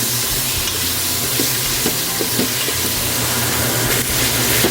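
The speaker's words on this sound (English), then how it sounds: "We've got the turkey sauteing in the bottom of the Instant Pot." Ground turkey browning in the bottom of an Instant Pot, a steady close sizzle and hiss with a few soft stirring scrapes, no voices.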